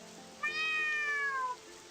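A single drawn-out cat meow from Ghost School, an RPG horror video game, rising and then falling over about a second, clear and close against a faint rain-like hiss.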